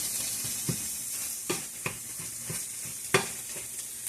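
Over a constant sizzle, a utensil knocks and scrapes at irregular intervals, breaking up a big chunk of food in a frying skillet while making quiche with ham, bacon, spinach and gouda, close and alone.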